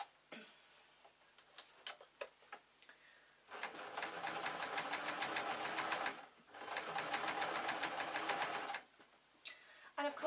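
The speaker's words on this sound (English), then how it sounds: "I'm still sewing right side to right side" A domestic sewing machine stitches fleece slippers in two sustained rattling runs of fast, even ticking, close and fairly loud, separated by a short pause, with quiet handling clicks before and after.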